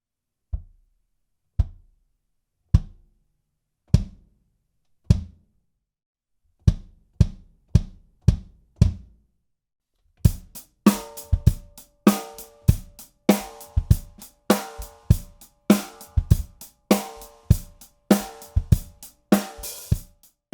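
A tuned-up kick drum with an unported resonant head, miked from outside, gives punchy, deep thumps: evenly spaced single hits first, then a faster groove joined by cymbals and other drums.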